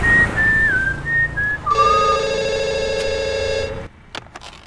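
A telephone in a Hindi-dubbed film scene rings with a steady electronic tone for about two seconds, following a whistled tune and set against a faint background score.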